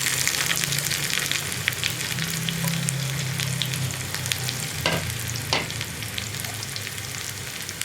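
Sliced onion rounds frying in a pan for a mango moru curry, giving a loud, continuous sizzle with scattered crackles, a low hum underneath and two sharp clinks of a utensil against the pan.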